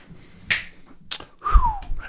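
Three separate finger snaps, sharp and close, spaced roughly half a second apart, followed by a brief sliding squeak, with no talking.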